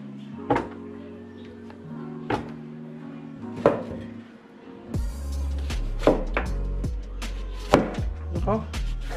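A knife slices through a bottle gourd with a hard seed core in sharp, evenly spaced thunks against a board, about eight cuts, close and clear with a low hum behind.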